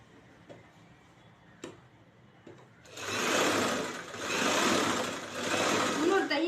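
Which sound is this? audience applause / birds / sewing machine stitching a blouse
sewing machine stitching a blouse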